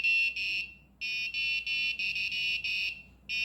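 A piezo buzzer wired to an Arduino board beeps out a short eight-note melody, shrill electronic tones in separate bursts with brief gaps, close and clear with nothing else audible.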